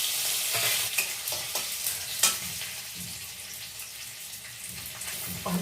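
Chilli and ginger hitting hot refined oil in a pan, a close crackling sizzle with stirring scrapes and sputtering bursts that settle to a steady fry.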